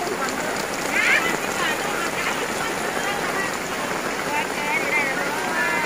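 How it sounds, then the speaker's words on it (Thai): Rain pours steadily at an outdoor market, a loud unbroken hiss, with voices faintly audible beneath it. "โอ้ยฝนตกค่ะ"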